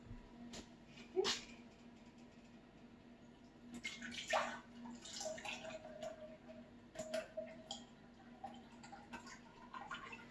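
Tap water running and splashing while a pan is washed by hand after canning meatballs, with intermittent clatters and drips over a steady low hum, fairly quiet throughout.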